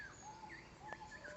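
Birds call overhead in a zoo aviary at Healesville Sanctuary in Australia, with thin whistled notes and short chirps scattered over a quiet background and no talking.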